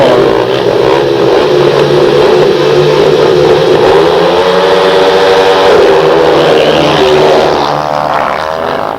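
Speedway motorcycles in a 2002 Premier League meeting between Edinburgh Monarchs and Reading roar away from the start gate, loud close engine revs rising in pitch as they accelerate, filling the whole stretch before easing off at the end.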